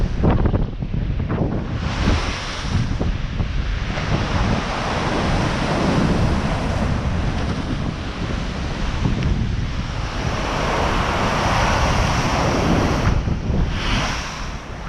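Stormy sea waves crash against the Blackpool seawall near high tide, a loud, continuous roar of surf rising and falling in surges, mixed with heavy wind buffeting the microphone, with no voices.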